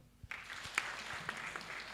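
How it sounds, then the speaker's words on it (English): Applause at a Uganda Bureau of Statistics event for a Uganda Human Rights Commission speaker, starting abruptly after a quiet moment and continuing as a steady, moderately loud patter of hands in a large room. "I think she deserves a hand clap."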